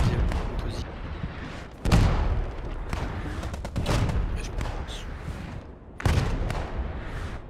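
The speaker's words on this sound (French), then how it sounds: "Je sais pas, elle était à qui l'artillerie" Loud artillery blasts from the video game Post Scriptum hit in several heavy booming impacts a few seconds apart, mixed with rolling gunfire between them.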